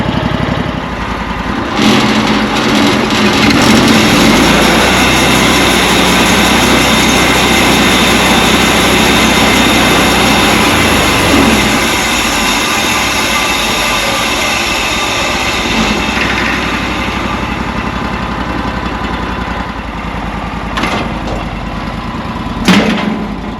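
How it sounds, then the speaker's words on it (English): A sawmill's gas engine, just choke-started, runs steadily while warming up, giving a loud, continuous, close-up drone with a few clicks near the end. "We'll let that engine warm up for a little bit"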